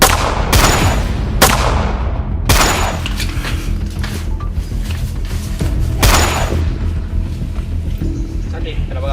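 Staged gunfire in a student short film about the Battle of 10 November, with several sharp, loud shots at irregular intervals over a constant rumbling background.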